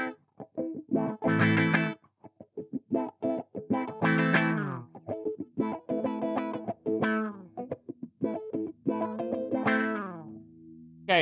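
Electric guitar through a Sonicake Cry-Bot auto wah pedal at lowered volume, with short picked phrases and chords whose tone sweeps and quacks, separated by brief gaps, ending on a sustained note.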